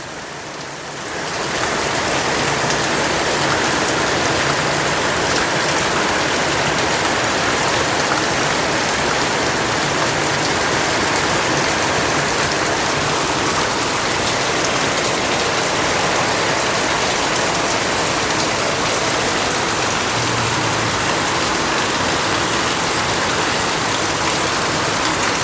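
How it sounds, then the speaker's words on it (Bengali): Steady rain drums on a tin roof, a dense, loud, even hiss that sets in after a second and keeps going without a break, with no voices. "বিশেষ করে বৃষ্টির এই সাউন্ডটা টিনের চালে খুব ভালো লাগে"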